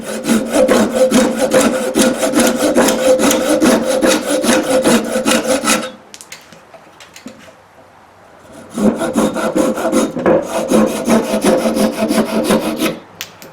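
Windsor chair spindles are sawn off by hand, the wooden stock rasping under quick back-and-forth strokes. Two long, close bouts of sawing with a brief pause between them, with no talking.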